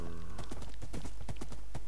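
Steady hoof clip-clops of a horse in a survival video game, a quick rhythmic run of close, evenly spaced strikes over a constant low ambient hum with no speech.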